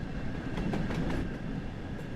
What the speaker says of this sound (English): Welcome to Train Sim World, Spirit of Steam, Liverpool to Crewe.